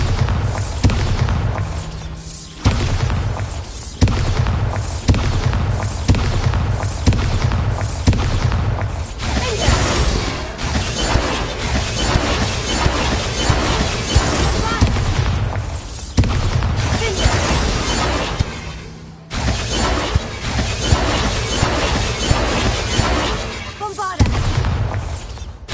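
Bombarda spell blasts go off in a Harry Potter video game, a dense run of loud booms and crackling bursts over game music and effects, with brief lulls between volleys.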